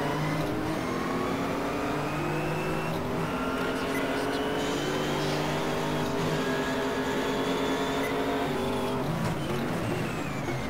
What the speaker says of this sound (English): Sounds of the other cars are amazing as well.